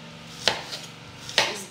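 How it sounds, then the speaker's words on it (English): Two sharp knife chops against a board, well spaced and fairly close, cutting food into pieces, with a low steady hum underneath and no talking. "now you can chop it in the sizes in which you feel comfortable with"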